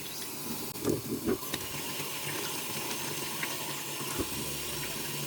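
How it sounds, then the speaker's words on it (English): Water runs steadily from a tap as pineapple, ginger and lime are washed beneath it, a constant hiss with brief splashes and knocks of handling up close. "we're gonna wash our pineapple and ginger and lime as well"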